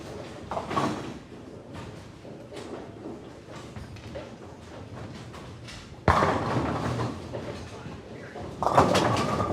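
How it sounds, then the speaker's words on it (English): A bowling ball strikes the pins on a lane during a bowling match, the pins clattering and mixing around as they fall, with two sharp crashes amid ongoing alley noise. "Mixer is just when the pins just kind of, you hit it a little bit light and the pins just kind of all mix around and fall."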